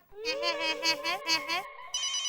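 A telephone rings in a domestic comedy scene, a loud repeating electronic ring pattern in several bursts, followed by a brief higher tone at the end.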